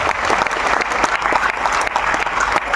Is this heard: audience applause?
yes